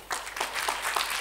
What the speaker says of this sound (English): Give an applause to Luc.